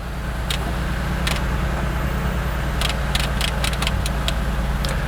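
A 1998 Ford Contour engine runs rough at idle, a steady low drone close by with a few brief metallic clicks and taps over it.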